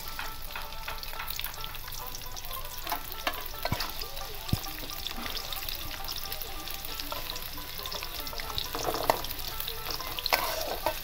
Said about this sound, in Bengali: এখন আমি গামলির মধ্যে তেল দিয়ে দেবো পেঁয়াজ বেরেস্তা করার জন্য।